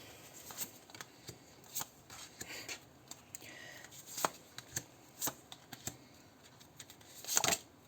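Tarot cards being shuffled in a series of crisp riffling bursts, with soft handling and rustling between them, close and fairly quiet.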